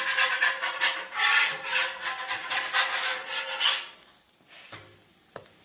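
Metal spatula scraping melted cheese off a Blackstone flat top griddle, a close rough rasping in repeated strokes for a few seconds, then near silence with a couple of faint taps.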